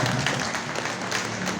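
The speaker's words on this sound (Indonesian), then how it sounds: "tepuk tangan." Brief clapping from an audience at an Indonesian village meeting, a short, dense burst of applause at moderate loudness.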